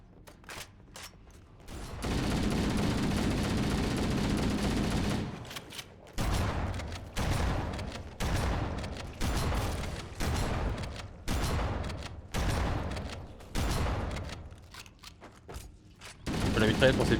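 Submachine gun and shotgun fire in Halo: Combat Evolved Anniversary: a long sustained stretch of rapid shots, then a steady series of loud, evenly spaced bursts with short gaps between them.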